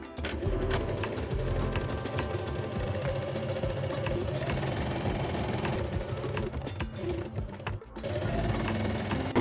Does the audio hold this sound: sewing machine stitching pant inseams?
yes